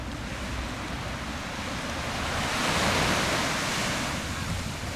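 Surf rolls steadily onto a beach at Anna Maria Island, Florida, in winter, a broad continuous wash with a swell building and easing midway, heard alone over light wind.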